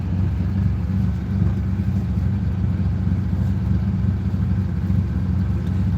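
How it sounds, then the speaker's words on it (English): A Lamborghini Countach engine idles with a steady low rumble, continuous and close, with no voices over it. "If you guys are happy listening to the car, that's good."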